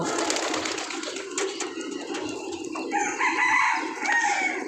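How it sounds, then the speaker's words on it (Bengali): Pigeons in a coop, cooing and calling near and moderately loud over a dense background of bird chatter, with a rooster-like crowing call rising toward the end; no speech. "এই যে কিছু কিছু কবুতর দেখেন, এগুলো আপনার ছোট ছোট কবুতর।"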